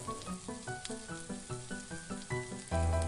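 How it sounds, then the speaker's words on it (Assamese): Pieces of climbing fish frying in hot mustard oil give a steady, crackling sizzle that runs throughout and swells louder near the end, with a faint tonal hum underneath. "কাৱৈ মাছ এপিচ লৈ পেলাই ঢালি লৈছোঁ আৰু এপিচ এপিচ কৰি পেলাই গোটেই মাছখিনি ঢালি ল'ম তেলত"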